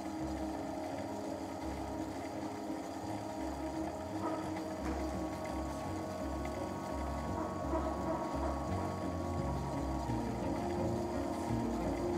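A ring spinning machine spins core spun yarn, with an elastic thread fed into the core of cotton yarn. It gives a steady, dense mechanical whir with pulsing low-end throb and fine rattles that hold unbroken throughout, with no voices.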